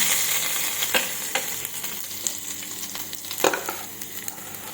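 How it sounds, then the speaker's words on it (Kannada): Ginger garlic paste and a chili being stirred into water in a pan, with soft scraping strokes and a few sharp clinks of the spoon against the pan over a steady faint background hiss. "ನೀರಿಗೆ ಹಸಿ ಶುಂಠಿ ಬೆಳ್ಳುಳ್ಳಿ ಪೇಸ್ಟ್ ಒಂದು ಮೆಣಸಿನಕಾಯಿ ಹಾಕಿ ಚೆನ್ನಾಗಿ ಮಿಕ್ಸ್ ಮಾಡೋಣ"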